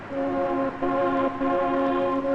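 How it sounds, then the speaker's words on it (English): A train horn blows in steady, layered tones, loud and close, with two brief breaks in the drone over a low rumbling background. "Sam, it's the train"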